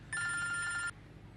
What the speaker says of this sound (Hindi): मैं फोन उठा के देखूं, हो सकता है किसी ने जरूरी बात करनी हो